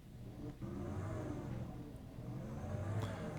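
A car engine in the video game 12 Drive hums and steadily rises in pitch as it accelerates, a smooth synthetic-sounding drone with no voices.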